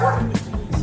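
A dog barks in a home during a police visit, giving a few short yips and woofs at moderate volume, partly blended with background sound.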